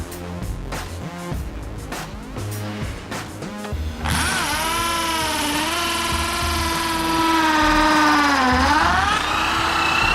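A powered drill bores into the ground for a water tank foundation at a housing site, starting with rough knocking and then running as a loud, steady whining hum whose pitch dips under load.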